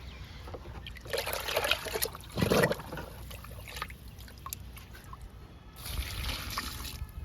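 Liquid fertilizer is poured onto potted fig plants outdoors, producing soft, quiet splashing and trickling in a few irregular bursts with calmer gaps between them.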